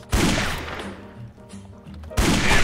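Magnum gunshots in a shooter video game, two loud booming blasts separated by a quieter gap with faint background tones.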